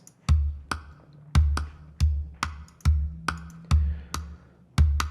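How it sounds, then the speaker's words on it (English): Calabash, a hollowed-out West African gourd, struck in a steady rhythm of about a dozen deep, resonant thumps, each a sharp attack with a short boomy decay, played alone and fairly close. "the first of the percussion instruments to arrive is the calabash"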